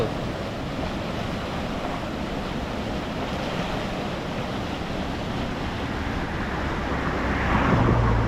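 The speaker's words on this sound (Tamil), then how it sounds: "இங்கே பாருங்கள் தண்ணி எப்படி ஓடுதுன்னு." Steady, loud rushing of river water fills the whole stretch, a broad continuous roar with no talk, swelling slightly near the end.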